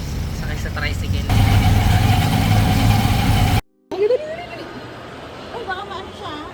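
A tricycle motorcycle engine runs at a steady, loud idle-like drone, then cuts off briefly. A quieter stretch follows with traffic hum and people talking.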